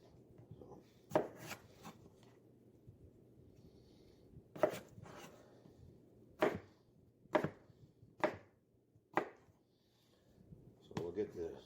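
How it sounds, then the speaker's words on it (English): Knife chopping potatoes on a cutting board for roast potatoes, heard as a series of sharp, separate chops spaced about a second apart, with a few quick double strikes, close and fairly loud over a quiet room hum. "So I'm just going to cut up some potatoes."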